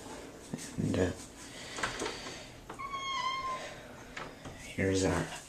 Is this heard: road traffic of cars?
no